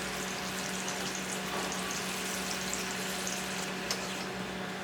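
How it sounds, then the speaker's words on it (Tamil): Chickpeas frying in oil in a pan, a steady, dense sizzle that holds at an even level throughout with faint occasional crackles, no voices. "இந்த ஸ்டேஜ் வர வரைக்கும் நம்ம பொரிக்கணும்."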